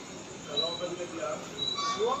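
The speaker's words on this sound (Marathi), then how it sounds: "आली आहे कोणती तरी ट्रेन" A local train pulls into Currey Road station in Mumbai, with faint metallic rumbling and thin wheel squeals rising over the platform's background hum, and voices murmuring nearby.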